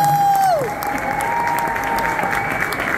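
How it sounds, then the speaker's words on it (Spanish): Audience at a concert in the Sala del Museo applauds the venue staff, steady clapping filling the room, with a sustained whistle gliding down near the start and faint cheers over the applause. "Fuerte aplauso para ellos."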